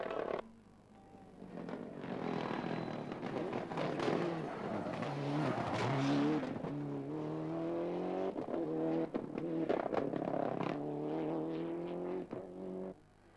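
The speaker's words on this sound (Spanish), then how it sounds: "volvía a reencontrarse con su Toyota Celica GT4 y de momento le sacaba todo el partido posible a una montura talismán para José Mari" A Toyota Celica GT4 rally car races on a stage of the 1997 El Corte Inglés Rally, its engine revving hard through repeated gear changes and lifts, loud and near, with tire noise as it passes.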